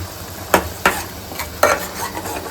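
A spoon scraping and stirring spices for a corn curry in a pan, three or four distinct sharp scrapes over a low sizzle, close and alone.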